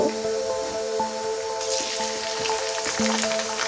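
Ginger and garlic hit hot oil, giving a continuous close sizzle with a faint steady hum behind it; the crackle brightens and thickens partway through.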